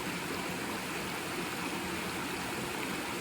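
A stream at Blue Mounds State Park flows steadily, a constant broadband rush and gurgle of water that stays even and unbroken throughout, with no voices.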